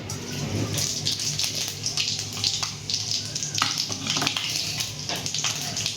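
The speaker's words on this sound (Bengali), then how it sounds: "তেলটা গরম হয়ে গেছে, কি দেবে এখানে? এখন দেবো এতে পাঁচফোড়ন" Panch phoron spices sizzling in hot oil for a traditional Bengali mango dal: a steady, close frying hiss with crackles and pops throughout, and no voices.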